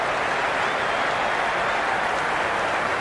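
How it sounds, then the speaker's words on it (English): A stadium crowd in the Cricket 26 video game during an MI vs CSK match cheers and roars in a dense, steady wash of noise that stays loud and unbroken throughout. "The crowd is electric right now."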